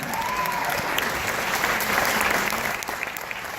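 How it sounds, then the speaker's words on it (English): An audience at a Sundance Q&A screening in Salt Lake City breaks into steady, dense applause that holds for several seconds without any speech over it. "So give yourself a round of applause."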